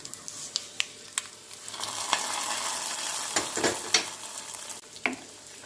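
Hot mustard-seed tempering tipped into a drumstick-leaf and lentil curry, bursting into a loud rising sizzle with scattered sharp pops and clinks of a spoon, close up and without speech.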